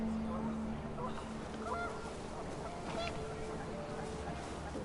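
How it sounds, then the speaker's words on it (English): Panicked geese honk in the video game What Remains of Edith Finch: a few faint, brief honks sound over wind and background ambience. "The wind picked up, and panicked geese appeared and quickly went."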